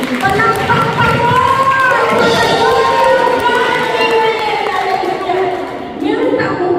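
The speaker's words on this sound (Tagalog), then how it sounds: "Palakpak pa mo!" A church congregation of the Yahweh El Shaddai community in Montreal claps and cheers loudly together, a dense sustained wash of applause with crowd voices mixed in throughout.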